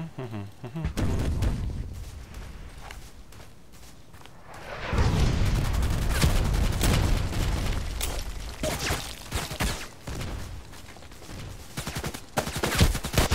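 Gunfire in a sniping-themed video game rings out as scattered sharp pistol cracks, followed by a louder, denser stretch of rapid booming shots with echoing tails and intermittent bangs through to the end.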